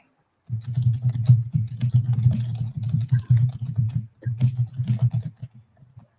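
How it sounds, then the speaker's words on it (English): Rapid clattering keystrokes on a computer keyboard, close and bursty, with a brief pause partway through before typing resumes. "You hear the clanking of my keyboard?"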